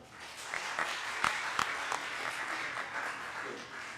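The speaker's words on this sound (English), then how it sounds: "So clap for yourself once more." Audience clapping at a children's climate summit, a soft, steady patter of hands from a hall crowd with a few sharper individual claps standing out, heard at a moderate distance.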